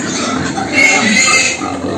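Pigs on a farm grunt in a short close burst over a noisy barn background, rough and loud, with no talk over them.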